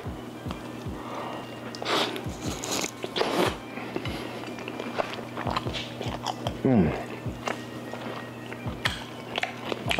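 Crispy baked honey garlic wings being bitten and chewed up close, with repeated crunchy bites and wet mastication in an irregular rhythm, a brief voice mixed in.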